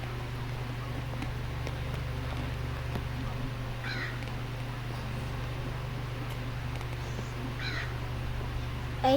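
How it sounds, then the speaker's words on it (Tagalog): A crow caws twice in the video game Granny, short harsh calls spaced a few seconds apart over a steady low hum. "May alaga siya bird to."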